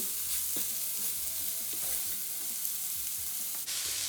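Onion flowers fry in a pan with salt and turmeric, a steady close sizzle broken by repeated scraping strokes of a spoon as they are stirred, with no talk.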